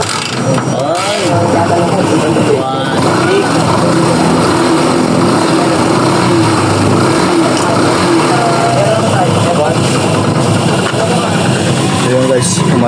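A small engine, just started after work on its spark plug cap, runs loud and steady with a buzzy, mower-like drone throughout, with slight fluctuations in pitch.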